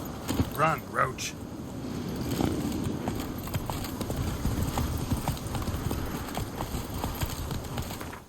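Hooves of Roach, the horse in The Witcher 3, clatter in a fast gallop, a dense rhythmic clip-clop close up, with a brief voice and creaks at the start before the galloping runs on steadily.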